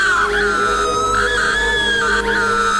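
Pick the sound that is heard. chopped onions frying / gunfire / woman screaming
woman screaming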